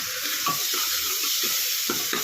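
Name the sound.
stirring tomato mixture cooking in a pan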